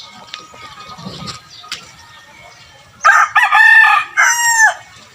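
A rooster crows loudly and close by, two drawn-out calls near the end after a quiet stretch with faint background chatter.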